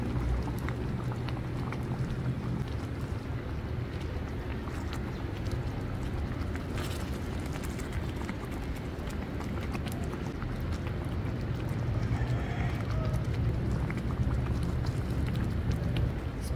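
Pot of dumpling soup boiling, a continuous dense bubbling and gurgling that stays steady and close throughout, with no voices.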